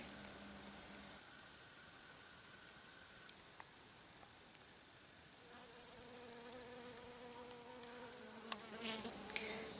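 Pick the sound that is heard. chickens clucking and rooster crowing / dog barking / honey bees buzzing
honey bees buzzing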